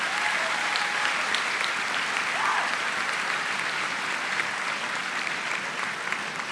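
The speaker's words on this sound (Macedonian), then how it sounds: "Еден аплауз за слоганот: љубов плюс единство е еднакво на иднина." Sustained, dense applause fills a hall at a party founding assembly, a steady roar of many hands clapping at constant loudness throughout.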